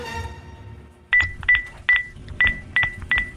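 A telephone is dialed, six evenly spaced keypad tones beeping one after another, clear and close over a faint background.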